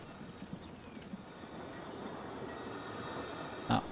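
A train running along its track in a railway-building video game set in a Jamaica mountain-top map, a steady low rumble of rolling wagons at moderate distance, continuous throughout with one brief sharper knock near the end.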